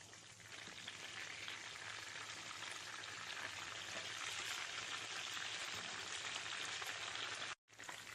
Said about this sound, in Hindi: इसे फ्राई होने देते हैं थोड़ी देर के लिए